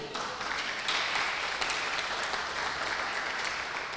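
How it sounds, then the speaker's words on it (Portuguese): A church congregation applauds during a sermon, giving a dense, continuous wash of clapping that holds steady and fairly loud for the whole stretch. "aplauda Ele"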